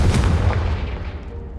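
A Confringo spell blast fired in the Hogwarts Legacy video game, a loud booming burst with a sharp onset that rolls off over a second and a half, standing alone without voices.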